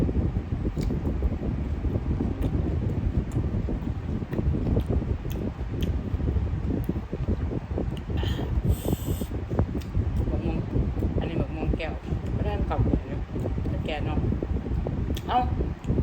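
Steady wind buffets the microphone throughout, a dense, continuous low rumble with gusty surges, recorded outdoors.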